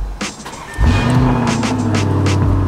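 A Lamborghini Urus SUV fires up with a push-button start: a brief starter whir, then a sudden loud engine catch that settles into a deep, steady idle rumble.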